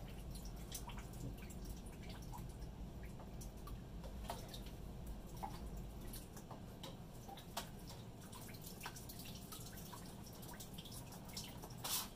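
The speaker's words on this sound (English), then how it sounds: "there's quite a bit of water coming out of there" Water drains from an ultrasonic cleaner, a steady low trickle with scattered drips and ticks, fairly quiet and close, with no one talking.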